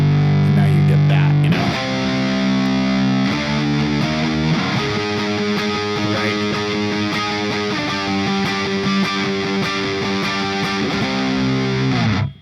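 A heavily distorted electric guitar plays through an amp model, loud and close, sustained chords and moving riffs ringing continuously before cutting off abruptly at the end.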